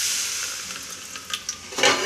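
Drops of water hit a hot pan of sprouted green gram, setting off a steady sizzling hiss with a few sharp spits and a louder burst of sizzle near the end, no voices.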